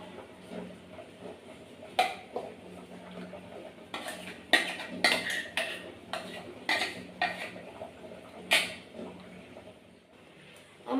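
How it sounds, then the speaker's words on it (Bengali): Ground spice paste is scraped from a grinding surface into a bowl for an egg curry, heard as a series of close, sharp clinks and scrapes of a utensil against the bowl, spaced irregularly with short quiet gaps. "এবার আমি মশলাগুলোকে এই বাটির মধ্যে তুলে নেব।"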